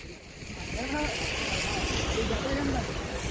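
The Purna river flows full to its banks near its confluence with the Kelna, a steady, dense rush of water close by, with someone talking over it.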